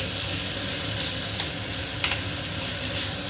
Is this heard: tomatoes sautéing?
yes